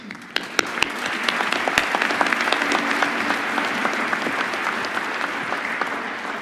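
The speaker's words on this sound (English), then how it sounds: "let's give a round of applause for Key City Brass." Sustained audience applause at a December 2018 commencement ceremony honoring the Key City Brass ensemble, a dense wash of many hands with a few sharp claps standing out early, steady and fairly loud throughout.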